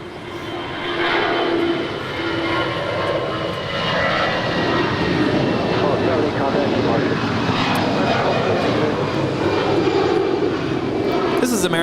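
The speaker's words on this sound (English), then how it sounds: "American Airlines 1270 departing to Phoenix. It's a 22-year-old Airbus A320." A 22-year-old American Airlines Airbus A320 departs Los Angeles LAX for Phoenix, its engines building into a loud, sustained roar with a faint whine that stays steady to the end.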